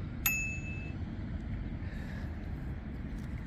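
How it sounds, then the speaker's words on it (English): A child's bicycle bell rings once outdoors, a bright single ding that rings out briefly and fades under soft wind and background noise. "Oh, show me that bell."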